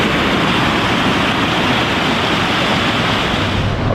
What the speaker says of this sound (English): There are rapids downtown.